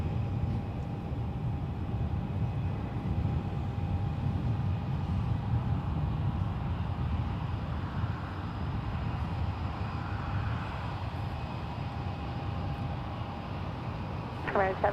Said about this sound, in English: Next landing, United Airlines 270 coming in from Eugene is Airbus A319